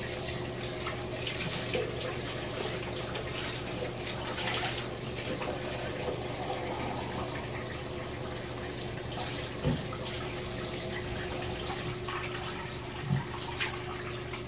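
Warm water pours steadily from a cup over hair in a bathroom, a continuous close splashing trickle with a faint background hum and a couple of small knocks, no talking.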